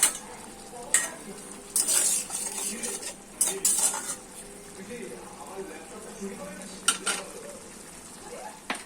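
A spoon stirs salted potatoes in a pan for Bengali aloo posto, with intermittent metallic scrapes and clinks against the pan over a soft sizzle, while a voice talks in between.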